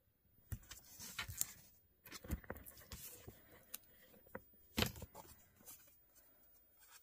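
Close, quiet crinkling and rubbing of adhesive tape being applied to a paper pouch in scattered bursts, with brief pauses between.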